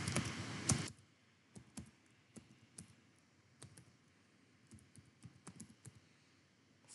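Typing on a computer keyboard while entering an email address at sign-up: a louder burst of rapid key clicks at the start, then sparse, soft individual keystrokes spaced out over the remaining seconds, with no talking.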